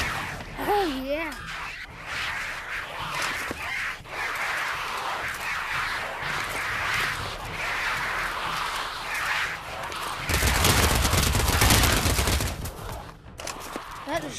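Minigun in the VR shooter Pavlov, rapid sustained bursts of fire with a heavy continuous roar near the end, while a player talks over the action.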